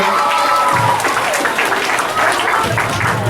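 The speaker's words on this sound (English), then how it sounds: "give him a round of applause" A crowd claps loudly and steadily, with cheering voices mixed into the dense, continuous applause.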